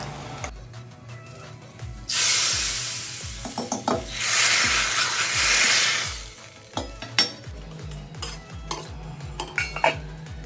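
Loud hissing sizzle as green chillies, dried red chillies and Kashmiri red chilli powder hit hot oil in a pan for tempering rajma, surging twice, with rhythmic clinks of a utensil stirring against metal.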